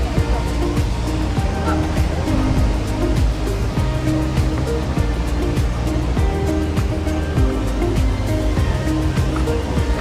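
Tegenungan Waterfall in Bali, a steady loud rush of falling water close by, constant and unbroken throughout with no talk over it.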